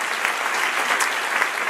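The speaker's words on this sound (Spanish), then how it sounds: "Dale otro aplauso, Señor." Church congregation applauding during a Spanish-language evangelical sermon, a steady dense wash of clapping from many hands at moderate level, continuous for the whole stretch with no voices over it.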